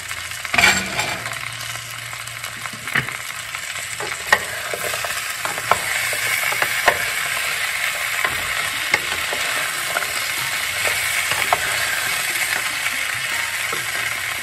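Vegetables for Bengali shukto cook in a covered pan with a steady, moderate bubbling sizzle and scattered small clinks, continuous throughout with no talking.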